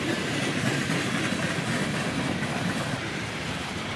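CSX freight train cars roll past close by in a continuous loud rumble with rhythmic clickety-clack of wheels over rail joints.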